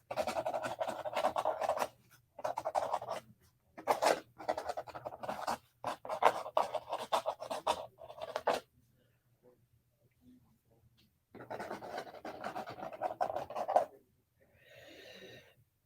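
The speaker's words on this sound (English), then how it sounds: "So that's just a little bit of scribble work there, scribble text work." A Staedtler Lumicolor marker with a plastic nib scribbles across paper in quick, breathy bursts of scratching. The strokes come in clusters with short pauses between them, close and fairly soft.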